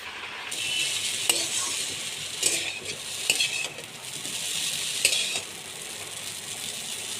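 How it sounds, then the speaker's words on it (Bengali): Boiled chowmein noodles fry in a pan with a steady sizzle, broken by a few sharp clicks and clatters of utensil against metal, close and continuous, with no voices. "চাউমিনটাকে দেখো আমি এখন সিদ্ধ করে নিয়েছি নিয়ে ভাজতেও শুরু করে দিয়েছি"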